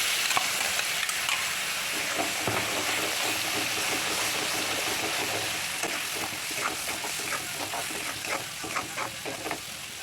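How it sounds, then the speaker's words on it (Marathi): Coconut masala gravy with chilli powder, turmeric and salt frying in a pan, a steady close sizzle with stirring scrapes and small pops throughout, no voices. "ग्रेव्हीला तेल सुटेपर्यंत भाजून घ्यावी"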